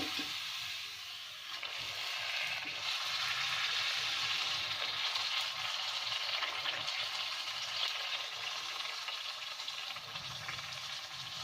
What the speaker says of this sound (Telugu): పూరీల్ని నూనెలో వేయించుకుందాము.